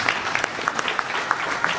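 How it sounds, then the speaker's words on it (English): Applause from an audience at a school Donuts with Dad event, scattered claps ringing out across a short burst, moderately loud and fairly even with a faint murmur of voices underneath. "Round of applause for the response."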